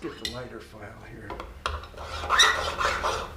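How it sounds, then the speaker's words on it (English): A metal hand file rasps across a metal jewelry piece in a series of close, scratchy strokes, starting light and broken and turning into louder, rougher sustained filing toward the end. "You can hear the different sound of the teeth of the file going across the metal"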